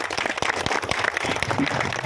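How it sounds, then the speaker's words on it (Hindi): A crowd at an outdoor political rally claps to welcome Rashtriya Janata Dal and Mahagathbandhan candidate Deepak Yadav, with loose, uneven claps at moderate distance and sharp individual hits standing out. "तालियों के साथ इनका स्वागत करें।"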